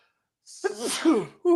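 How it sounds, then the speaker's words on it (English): A single loud, close sneeze, with a sharp intake of breath before the burst. "Got to sneeze."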